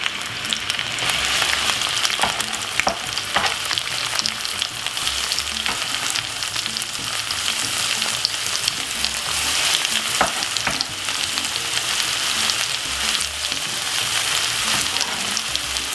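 Chopped vegetables fry in a pan for classic fried saltfish, a steady dense sizzle with scattered clicks and scrapes of stirring, even and unbroken throughout with no voices.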